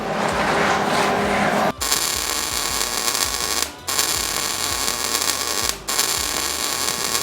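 Steady electric buzzing and crackle of welding on the back end of a 1973-79 Ford F-Series truck bed, loud and close, broken by three brief pauses where the arc stops and restarts.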